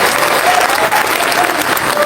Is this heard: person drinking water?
no